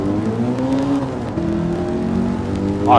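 A race car engine in a racing game at Laguna Seca, American Clubman Cup 700, droning loudly with steady harmonic pitch, dropping as it shifts into the wrong gear midway, then climbing again with a rising whine at the end.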